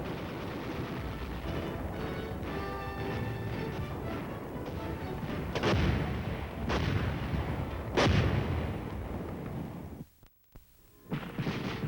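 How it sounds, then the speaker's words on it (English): Military artillery pieces fire during US Army combat training, several heavy booming shots landing over a continuous rumble, with a brief drop to near silence before the din returns. "It takes a team of soldiers to fire an artillery piece."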